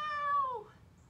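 A human voice imitates a single cat meow, a short nasal mew that slides downward and fades, close and clear.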